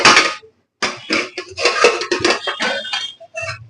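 A metal lid lifted off a cooking pot while making a bori and puti fish curry, with clinks and scrapes of cookware in several short bursts.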